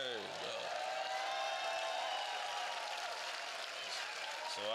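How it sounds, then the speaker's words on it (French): A church audience applauds Pastor Déborah during a French-language sermon, a continuous wash of clapping at moderate distance, with voices briefly audible at the start and end. "Alors applaudissez le pasteur Déborah."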